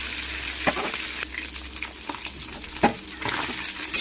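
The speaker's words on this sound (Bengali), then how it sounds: "তারপর একে একে মাছগুলো ভেজে নেব, ভালো করে উল্টে পাল্টে ভেজে নেব" Bata fish fries in hot oil in a wok, giving a steady crackling sizzle with sharper spits and pops at irregular moments. The sound is close, with no talking.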